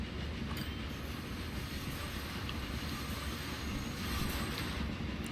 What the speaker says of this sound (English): I love how it like screeches along the tracks when it has a very sharp bend.